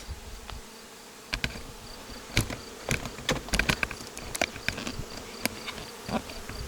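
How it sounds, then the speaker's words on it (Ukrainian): A swarm of honey bees buzzing as they are tipped out from a swarm catcher into a bucket, a steady faint hum punctuated by sharp clicks and knocks of handling, with no talk. "приніс я наших бджіл. Буду висипати зараз."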